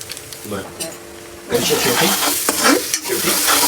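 Ginger-garlic paste hits a hot frying pan and bursts into a loud, steady sizzle midway, with stirring scrapes over it; a quieter stretch before has faint voices and light kitchen clatter.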